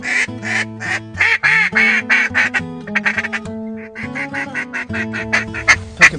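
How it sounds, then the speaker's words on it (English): Grey ducks (Pacific black ducks) quack repeatedly and loudly in a New Zealand wingshooting setting, a dense run of harsh, overlapping calls across the whole stretch. "First gray duck here, which is Pacific black duck, but in New Zealand they call it a gray duck."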